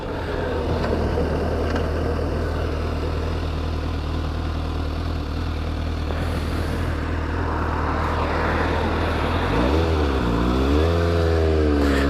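A Suzuki GSX-S750 motorcycle engine hums under steady wind noise on a gravel-strewn road, then revs up and down in several smooth swells near the end.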